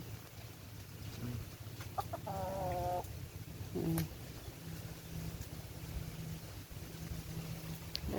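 A hen clucks a few times in the middle of a steady outdoor background hum, fairly distant and soft.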